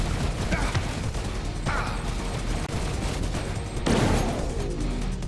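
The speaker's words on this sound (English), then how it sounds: "let's try another EMP grenade" An EMP grenade detonates in the System Shock remake, a harsh crashing burst rising out of dense, noisy game combat, with a few earlier impacts and a voice talking underneath.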